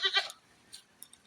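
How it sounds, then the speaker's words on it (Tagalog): A big, newly bought goat bleats twice in quick, loud succession at close range, followed by a few faint, brief sounds. "ito yung bagong bili kong kambing"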